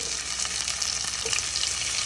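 Tomato and green chillies sauté in a pan for crab roast, a close, continuous bright sizzle with faint crackles and no voices.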